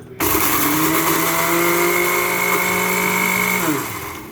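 A blender whirs loudly for a few seconds grinding spices, its motor pitch shifting slightly before winding down at the end.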